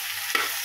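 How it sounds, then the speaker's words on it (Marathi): Okra, garlic and onion sautéing in a pan, a brief soft sizzle with a single stirring scrape. "आपल्याला लसूण आणि भेंडे त्याच्यामध्ये ॲड करायचे आहेत आणि ते व्यवस्थित असे परतून घ्यायचे आहेत"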